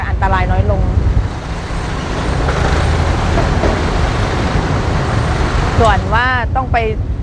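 Busy Bangkok road traffic heard from a moving motorbike: a constant roar of engines and road noise from cars, buses and trucks close by. A brief whine or squeal rises and falls near the end.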